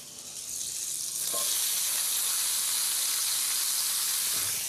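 A knob of butter sizzles hard in a hot frying pan where meat has just been browned, a loud, steady frying hiss that swells after the first second and carries on without talk.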